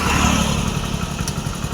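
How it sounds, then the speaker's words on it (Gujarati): A motorcycle engine drones steadily while riding along a village road in light drizzle, a loud, continuous mid-pitched hum with a slight clatter throughout. "અમારે બાઇક લઈને જવાનું છે"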